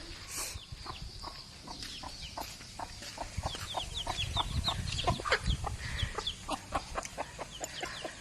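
Chickens cluck steadily in short repeated bursts as they are being caught, several birds close by, with a low rumble of background noise underneath.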